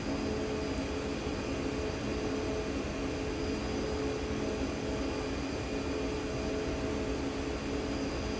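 Simulated CRJ-200 jet engines in X-Plane 11, a steady, loud, broadband roar and whine that stays constant throughout, with no talking.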